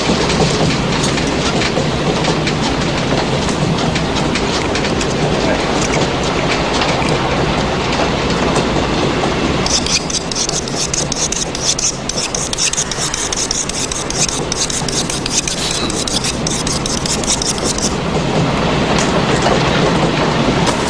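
A moving train rumbles steadily for about twenty seconds with a dense rubbing, rattling wash of wheel and carriage noise, loud and continuous, with no voices.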